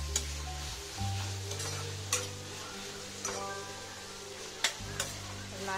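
Vegetables seasoned with grated ginger and salt fry in a pan, a steady close sizzle with a low hum beneath and several sharp scraping knocks of a spoon stirring them through.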